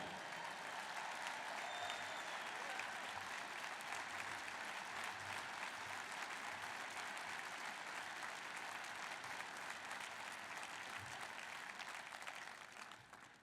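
An audience applauds at a speech by Israeli Prime Minister Netanyahu, giving sustained, even clapping that stays steady throughout and fades slightly at the end, sounding somewhat distant and soft, with no talking over it.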